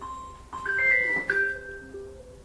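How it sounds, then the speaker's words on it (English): A short electronic alarm melody of bright beeping tones plays, fairly faint, with no voices. "that's my alarm because it's 6 o'clock in the morning"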